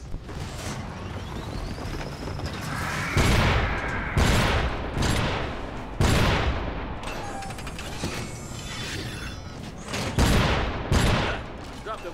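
Shotgun blasts boom at close range in the mech game Iron Brigade, several heavy shots spaced about a second apart over dense battle noise, mechanical whirs and explosions.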